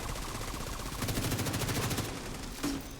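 Rapid automatic gunfire in the Division 2 video game, a dense burst of fast repeated shots for about a second within constant game noise, followed by a sharper single impact.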